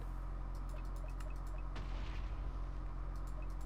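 A Minecraft Botania Entropinnyum flower pops with a single muffled explosion, a brief blast rumbling up midway through the clip over steady game background noise.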